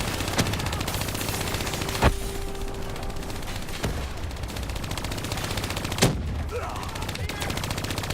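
Automatic turrets hijacked in Call of Duty: Black Ops III fire dense, continuous bursts of machine-gun fire with a few sharper, louder shots standing out, forming a loud, steady barrage.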